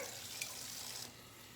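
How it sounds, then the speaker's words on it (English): Cold water runs from a kitchen tap into a container, a steady broadband rush lasting about a second before cutting off, leaving faint room noise. "I am just going to fill this up with cold water from my tap here"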